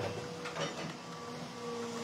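An interlock brick press with an 8-inch die and a 1.5-ton hydraulic cylinder runs at a brick works, giving a steady, fairly quiet mechanical drone with faint tonal hum throughout and no speech.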